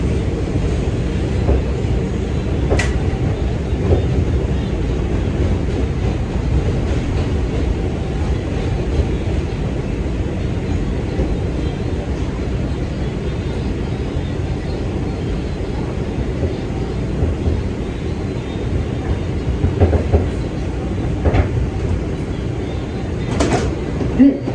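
New York subway 2 train at Bronx Park East station, a continuous loud rumble of rail cars with a few brief metallic clanks near the start and near the end.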